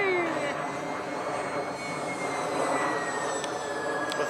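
E-flite Aero Commander RC model airplane droning steadily in flight, a thin high engine whine held at moderate distance with a faint falling pitch.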